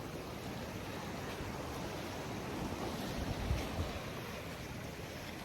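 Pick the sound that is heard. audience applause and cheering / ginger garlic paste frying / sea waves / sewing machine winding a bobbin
sea waves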